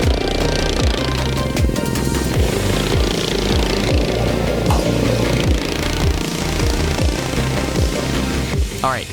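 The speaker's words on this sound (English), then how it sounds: "That's right, lawn mower racing." Small racing lawn mower engines from a Virginia Lawn Mower Racing Association event at Virginia International Raceway drone loudly and steadily, with repeated rising and falling buzzes as mowers pass close by, one after another.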